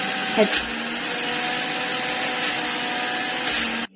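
A kitchen mixer grinder whirs steadily as it grinds a wet masala of coconut, ginger, garlic, coriander, tomato and a little onion, a continuous close motor drone with a brief clatter near the start.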